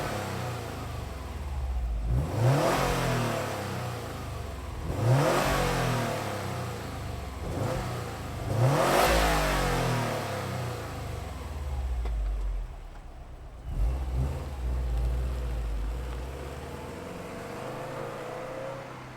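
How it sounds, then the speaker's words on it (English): A 2018 Subaru WRX STI Type RA on its stock exhaust revs hard in several loud surges, then settles into a steady drone as the car pulls away, with a deep exhaust rumble throughout. "Let me rev up and do a little bit of a pull away"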